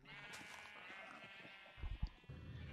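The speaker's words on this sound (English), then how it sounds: "I have a lot of sheep, and I mean a lot of sheep." Sheep bleating in the video game Minecraft on a SkyBlock farm holding many sheep: a single drawn-out, wavering bleat, faint and close, followed by a few soft low thumps.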